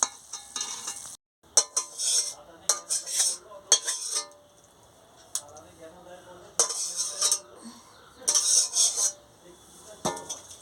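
A pot of cooked vegetables, with boiled eggplant, potato and stems in a Bengali teloga leaf chorchori, is lifted off the stove. Close metal clinks and scrapes of pot and utensils come in several sharp bursts, with no talk.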